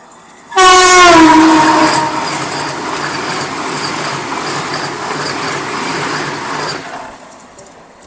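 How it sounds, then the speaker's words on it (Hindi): A Chennai–Mysore Vande Bharat Express overtakes a Humsafar Express, opening with a loud horn blast, then a sustained close rushing roar of passing coaches that fades out near the end. "ये लो भाई, all set for Vande Bharat overtake, green signal, और ये रही वंदे भारत।"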